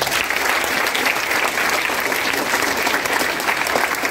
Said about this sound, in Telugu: నమ్మిన వాళ్ళంతా చప్పట్లు కొట్టాలి.